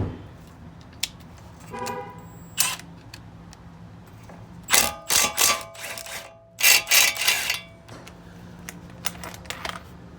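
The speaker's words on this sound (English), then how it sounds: "Now we're gonna go ahead and take the castle nut off. It's 17 millimeter." A 17 mm castle nut comes off the wheel hub of a 2001 Lexus RX 300, heard as a cluster of short, loud mechanical bursts midway, with scattered clicks and metallic clinks before and after.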